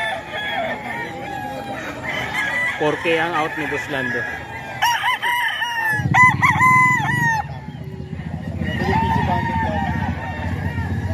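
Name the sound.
rooster crowing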